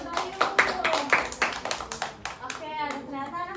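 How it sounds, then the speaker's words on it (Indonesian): A classroom of children claps for a student, a short burst of quick, uneven handclaps close by, fading slightly as a few voices chatter over the last second. "kasih tepuk tangan buat Bayu"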